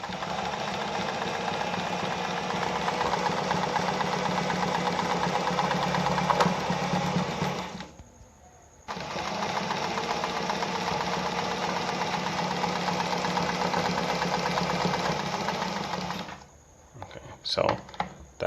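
A Pfaff 260 sewing machine running a zigzag stitch hums steadily with a fast mechanical chatter, stopping briefly midway and then resuming before halting near the end, with a few clicks after.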